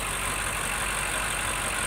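The 4.4-liter V8 of a 2021 BMW M5 Competition idling, a steady, even hum and hiss with no changes in pitch, heard alone at moderate volume.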